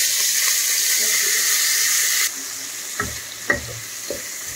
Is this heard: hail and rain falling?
no